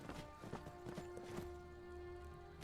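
Horse hooves clip-clop at a steady walking rhythm in the Skyrim video game, with soft game ambience and tonal music drones underneath; the hoofbeats are fairly close and moderately loud.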